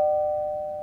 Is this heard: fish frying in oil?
no